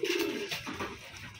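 Hungry Taiwan racing pigeons coo in repeated soft, throaty calls at close range as they come in to an empty feeder, with a few overlapping bursts and no talk.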